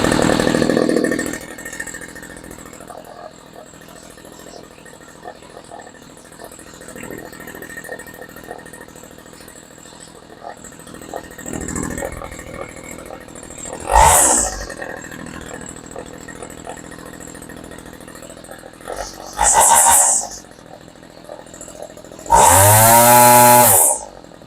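A Homelite string trimmer engine idling with a low buzzing putter, then revving up in three loud bursts, the last a rising, high-pitched whine close by, with someone speaking briefly.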